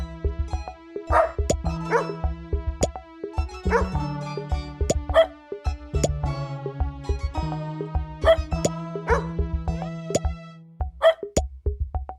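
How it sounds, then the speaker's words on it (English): Cartoon dogs in a kids' city island video game bark and yip in quick bursts over a bouncy musical background, the barks close, loud and repeated throughout. "Put the dog on the star and watch them go."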